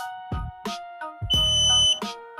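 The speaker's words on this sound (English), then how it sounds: "When you power it on, it does make that long beep sound." A folding electric wheelchair powering on, giving one long electronic beep of about half a second between short bursts of nearby talking.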